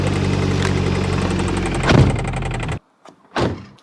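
A Ford Focus RS Mk2 2.5 five-cylinder engine runs close and loud with a throaty rumble, rising in a brief rev before cutting off abruptly, followed by a short silence and another sharp burst.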